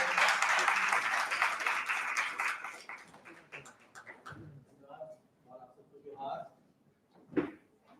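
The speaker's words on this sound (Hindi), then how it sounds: "एक जोरदार तालियां DSW सर को" Audience applause at a two-day national seminar in a teachers' training college hall, a loud burst of clapping for about three seconds that fades into scattered claps, followed by someone talking.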